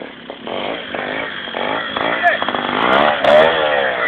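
Trial motorcycle engine revving in rising and falling bursts on an outdoor practice ground, buzzy and fairly close, with people talking and calling out over it.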